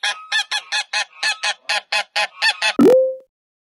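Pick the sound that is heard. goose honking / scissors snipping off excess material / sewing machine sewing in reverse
goose honking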